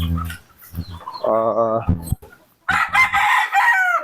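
Chickens and small chicks gather for feed, with close clucking, a drawn-out crow-like call and high chick cheeping in short bursts, along with a little talk.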